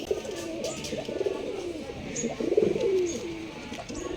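Domestic Bangladeshi pigeons, including Giribaz birds, coo in soft repeated rolling phrases at close range, with a few faint chirps in the background.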